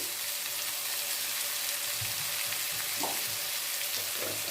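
Onion and drumstick pieces frying in a pan with no added water, a steady soft sizzle running throughout with a few brief stirring clatters near the end.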